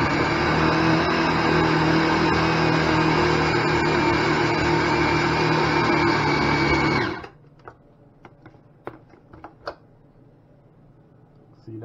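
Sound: food processor pureeing fish for fish burger patties

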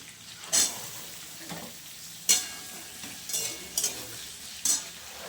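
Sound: onions and potatoes frying in oil

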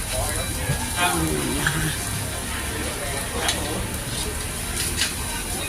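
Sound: vendor scooping khanom khrok coconut pancakes from hot pan

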